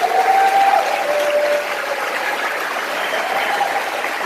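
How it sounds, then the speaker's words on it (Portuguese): An audience at a talk applauds in a continuous dense clatter that is loudest at first and settles to a steady level. A faint high whistle or tone cuts through briefly. "Uma salva de palmas para a Rebeca."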